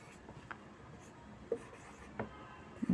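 Chalk or a marker scratches across a classroom board in short, faint strokes with a few sharper taps, heard alone over a steady background hiss.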